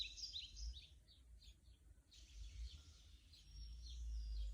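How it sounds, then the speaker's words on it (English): Birds chirping outdoors in spring, a run of faint, high, quick chirps and tweets, clustered early and again near the end, over a low rumbling background. "Can you hear the birds?"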